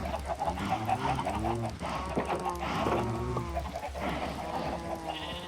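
Minecraft chickens clucking in a cramped farm pen, several overlapping bird calls mixed with other livestock noises, steady and close with no talk.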